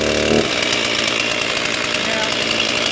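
A chainsaw being pull-started on full choke with the chain brake on catches and runs loudly and close, a rough, steady engine drone after a brief initial burst.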